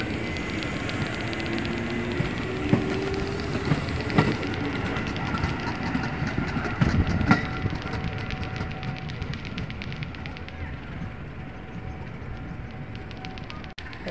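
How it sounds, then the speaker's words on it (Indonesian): A CC201 diesel locomotive passes through Jatinegara railway station in the morning, giving a continuous loud rumble and rattling roar with scattered metallic clanks that gradually ease toward the end. "Dari arah Pasar Senen akan masuk CC201 sepertinya."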